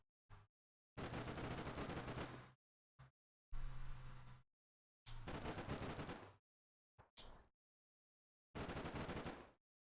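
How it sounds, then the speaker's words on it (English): Long machine gun bursts from Combat Mission: Black Sea, fired in several sustained volleys of roughly one to one and a half seconds each, separated by short single bursts and silent gaps, loud and close. "Your machine gun does work, yeah?"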